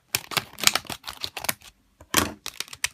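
Pokémon HeartGold SoulSilver booster packs are torn open, a run of sharp crinkly foil rips and rustles in quick bursts with a short pause, close and fairly loud, no talking.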